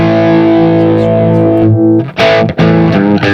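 An electric guitar with single-coil pickups plays through a high-gain amp preset on a Universal Audio Apollo interface: a loud, sustained distorted chord rings out, then several choppy, muted chord stabs follow.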